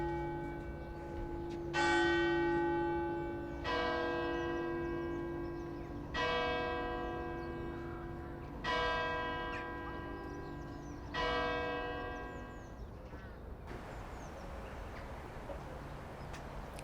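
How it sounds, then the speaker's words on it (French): A town church bell on the Île de Ré in winter tolls five slow, evenly spaced strokes, each ringing out and fading, followed by quiet outdoor ambience. "cloche de la ville annonce le début de la journée."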